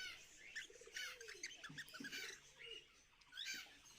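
Busy, overlapping cockatiel chirps and short whistled calls from adult birds, bright and fairly close, with a steady room hum underneath.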